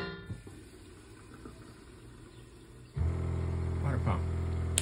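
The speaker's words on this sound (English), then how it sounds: "This is a water pump." A van's water pump switches on partway through, a steady loud motor hum rising sharply over a quieter background hiss and holding to the end.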